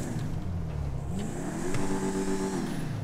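Chevrolet Corvette engine in the GTA 5 video game revs up, a deep bassy growl rising in pitch as it accelerates, steady and continuous without talking.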